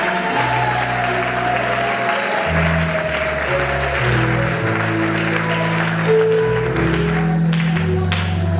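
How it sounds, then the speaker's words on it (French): A church congregation claps loudly and steadily for Jesus, sustained dense applause with music tones running underneath throughout. "Acclamons très fort pour Jésus"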